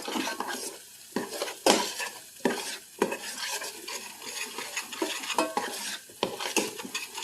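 Peppers and tomato paste being sautéed in a pan, a spoon scraping and clanking against the metal in repeated strokes over a steady sizzle, close and fairly loud.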